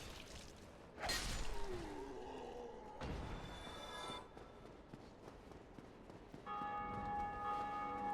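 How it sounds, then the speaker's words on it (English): A bell of awakening rung by another online player in a video game chimes out mid-clip, with clear sustained tonal ringing among game combat sounds, impacts and footsteps, and a second bright tone near the end. "when you hear that bell sound, if you're playing this game online, you will hear that noise when a actual player in their world rings a bell of awakening"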